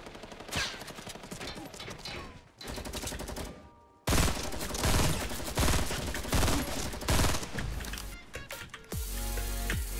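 A Fortnite light machine gun fires in long, rapid, rattling bursts, loud and close, broken by short pauses and a brief silence between strings of shots.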